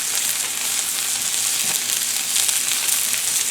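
Wagyu ribeye sizzles and fries steadily on a PK360 grill, a close, continuous hiss with faint crackles throughout.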